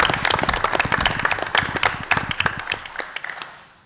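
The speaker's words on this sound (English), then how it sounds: "So give them a nice round of applause." Audience applause at a school board of education meeting honours the championship girls lacrosse team: brisk, dense clapping from a room of people, close and lively, tapering off toward the end with no speech.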